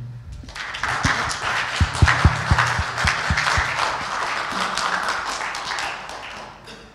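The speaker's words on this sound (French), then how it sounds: "je vous demanderai d'applaudir nos trois intervenants pour la qualité de leur intervention." A conference audience at a Gamers Assembly round table on video games applauds three speakers, a burst of many hands clapping that swells quickly, holds dense and loud, then tapers off, with a few sharp close claps early on.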